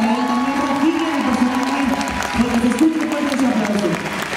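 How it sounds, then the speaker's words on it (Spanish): An auditorium audience applauds after a performer is introduced at a Lion King stage show, with steady clapping and some crowd noise throughout, and a voice speaking over it. "Miguel Eduardo Lino, un fuerte aplauso para él."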